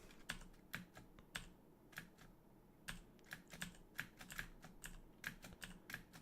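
Computer keyboard keys clatter in irregular quick taps and short clusters, close and quiet, during play of a Dungeon Crawl Stone Soup game, with no talking.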